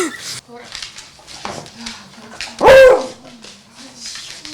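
A beagle whimpers and gives one loud, sharp bark near the end of the first three seconds, with faint yips around it.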